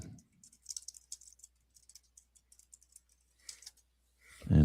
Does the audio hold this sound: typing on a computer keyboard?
yes